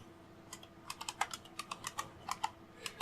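Someone types a root password on a computer keyboard, giving a close, quiet run of irregular key taps with short pauses, and no voices.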